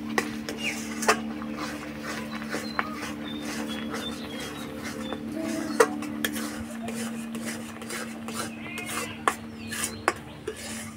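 A spoon scrapes and knocks around a pan as a sticky ripe-mango naru mixture is stirred, with steady metallic scraping and occasional sharp clinks over a low hum, close and moderately loud.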